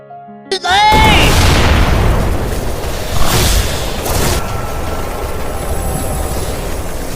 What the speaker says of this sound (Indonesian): Pangeran Merah Muda meledakkan kekuatan guntur yang membuat mereka semua terkena ledakan